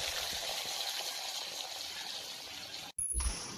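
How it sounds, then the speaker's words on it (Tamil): Raw mango pieces sizzle in hot oil with spluttering mustard seeds in a village kitchen, a steady close hiss and bubbling that drops out briefly near the end before a low thump and renewed frying. "மாங்காவை மட்டும் அந்த தண்ணியிலேருந்து எடுத்து ஆயிலோடு சேர்த்து போடுங்க"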